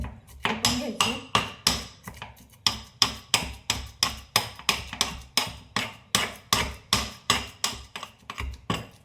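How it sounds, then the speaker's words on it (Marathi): Kavath (wood apple) chutney is pounded in a stone mortar and pestle, a sharp, close, steady series of heavy thuds at a quick even rhythm, continuing without pause and with no voices. "चांगले असे व्यवस्थित असे कुटून घ्यायचे."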